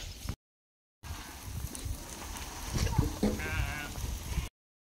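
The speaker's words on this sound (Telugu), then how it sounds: "ఈ కనపడే మొత్తం మేకలు" A goat in a village bleats loudly and close, a wavering cry standing out against steady outdoor background noise, with brief silent gaps around it.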